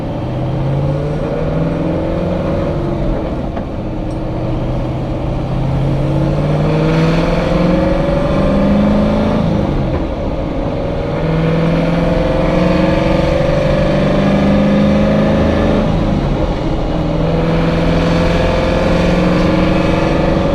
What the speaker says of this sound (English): Again, just happy to drive the car at this point.